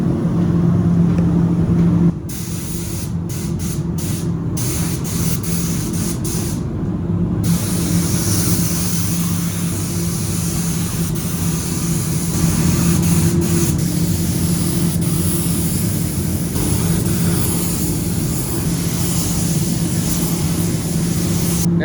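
A paint sprayer hisses steadily through a long pass while a fresh coat goes on, with a brief pause near the start before the continuous broadband spray resumes, close and fairly loud.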